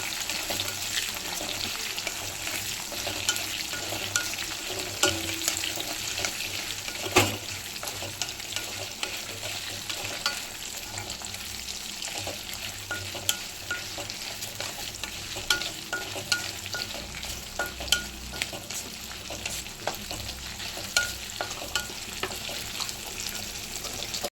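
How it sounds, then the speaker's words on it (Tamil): Shallots sauté in a pan for a curry leaf kuzhambu, a long steady sizzle with intermittent scraping and stirring knocks, close and with no voices. "ஒரு கப் சாம்பார் வெங்காயத்தில் பாதி போட்டுக்கலாம் எல்லாத்தையும் நல்லா வதக்கிக்கலாம்"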